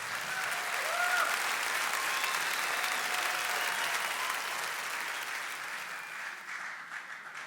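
A small audience gives a steady round of warm applause at a tribute performance, the clapping sustained and fairly close for several seconds before tapering slightly at the end, with an occasional faint cheer.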